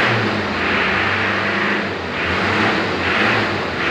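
A 2009 Mitsubishi Pajero engine revs loudly and steadily during an oil treatment test, a close, sustained roar that swells and dips in slow cycles, with no talking.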